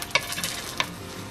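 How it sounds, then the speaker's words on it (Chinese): Pancake batter for an egg and kimchi pancake sizzles softly in a pan, a quiet steady frying hiss with a couple of brief sharp crackles. "等到这个颜色差不多变黄了，就是面熟了，就可以给它翻过来煎"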